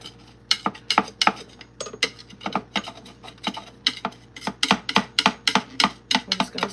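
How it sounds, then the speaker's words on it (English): An offset spatula scrapes around the sides of a mixing bowl during baking prep, giving a series of sharp, rhythmic clicks and scrapes that quicken toward the end, close and fairly loud. "we're just going to scrape down to the edges so we get all of it off the sides of the bowl"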